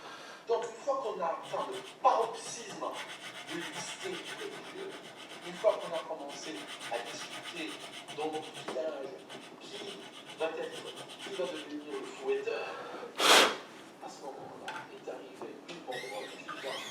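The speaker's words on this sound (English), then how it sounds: "Using a file, I trimmed down a little bit because it was a little bit too high" A hand file scrapes rhythmically across a part on an SG-style electric guitar with a Stetsbar tremolo, short rasping strokes up close and fairly quiet, with a sharp louder scrape near the end.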